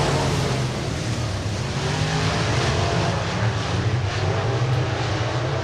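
Race cars roar around the oval at Deep South Speedway in Loxley, Alabama, during a heat race. The engines make a steady, dense, loud drone that continues throughout, with no talk.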